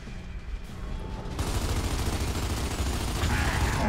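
Rapid gunfire in Gears of War 2, a dense, continuous rattle of shots that grows louder after the first second and keeps going to the end, with a faint voice beneath.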